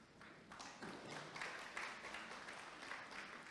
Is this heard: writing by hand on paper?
no